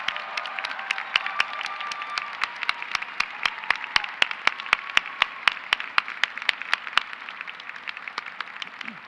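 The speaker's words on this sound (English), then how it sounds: "How about a round of applause for everyone who worked on it?" Applause at a MassArt commencement ceremony in 2023: a steady round of clapping from a crowd, dense and fairly loud with sharp individual claps standing out, slowly thinning toward the end.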